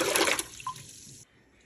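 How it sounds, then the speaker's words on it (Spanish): Water pours and splashes into a cooking pot, three litres for lentil and vegetable soup, loud at first then thinning to a brief trickle before stopping. "En una olla, agregar 3 litros de agua"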